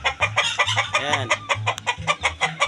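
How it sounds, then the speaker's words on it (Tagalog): A flock of chickens clucking steadily in a farmyard, repeated close clucks in a busy rhythm, with a short crow-like call in the middle and a brief word spoken over them. "Oh, ang daming manok dito."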